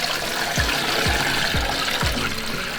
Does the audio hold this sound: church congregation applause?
no